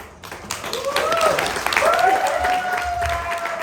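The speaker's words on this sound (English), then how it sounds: "I appreciate the applause" A comedy audience at the Odd Fellows Lodge bursts into loud, close applause and cheering, with whoops rising and falling over the clapping and a voice carrying through it.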